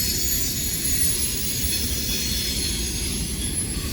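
A CSX freight train passing on the railroad at Elkhart makes a loud, steady rumble of rolling wagons, with a high, thin wheel squeal running over it and no voices.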